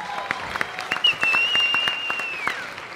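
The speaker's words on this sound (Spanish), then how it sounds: "Un aplauso, por favor, para Ricardo." Audience at a stand-up comedy monologue applauding for Ricardo, a short burst of crisp, fairly close clapping with a faint high whistle running through the middle.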